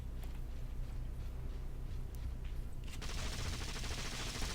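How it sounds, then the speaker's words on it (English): Rapid machine gun fire from thugs in the Marvel Heroes video game, a steady rattling barrage that swells louder and denser partway through, close and continuous. "Full of thugs with machine guns."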